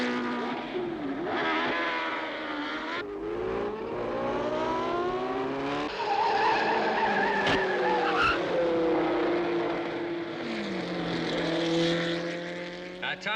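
Race cars howl and skid around a track during a 500-mile USAC event, engines whining up and down in pitch with sustained tire squeal, loud and continuous throughout.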